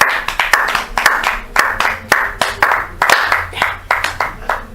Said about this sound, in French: Nous acclamons encore le Seigneur.